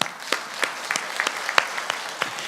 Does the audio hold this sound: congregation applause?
yes